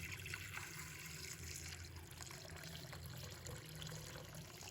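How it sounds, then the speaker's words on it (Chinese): Clean water is poured into a basin of shredded potatoes, a soft continuous splashing and trickling that runs faintly for several seconds with no voices. "放入另一个盆中，再次倒入清水"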